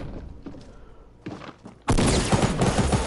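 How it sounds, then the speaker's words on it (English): Shotgun blasts in the video game Fortnite: a couple of sparse thumps, then a sudden loud burst of dense gunfire that carries on to the end. "Alright, shotgun time."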